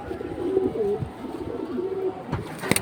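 Pigeons for sale coo in low, repeated throaty calls, close by, with a faint rustle and a few soft knocks near the end.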